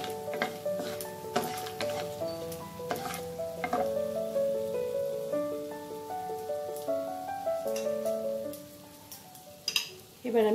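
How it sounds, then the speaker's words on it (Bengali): Whole garam masala spices sizzling and crackling in hot oil as a tempering for Bengali sweet pulao, a steady close fry running beneath a soft tonal background. "আর গোটা গরম মশলাটা ফোড়ন দিয়ে দেবো।"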